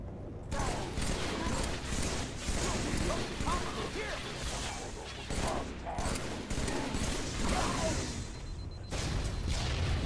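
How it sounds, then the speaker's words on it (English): Battle rifle bursts in Halo 2 gameplay, dense and continuous rattling gunfire with crashes and mechanical clatter across the stretch, loud and near, amid the chaos of a firefight. "Battle rifle."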